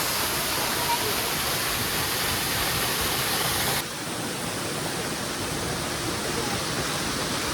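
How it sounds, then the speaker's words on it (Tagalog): Troll Falls waterfall pours with a dense, steady roar of rushing water, loud and close, continuing unbroken with a slight drop in level midway. "Dito na kami sa Troll Falls."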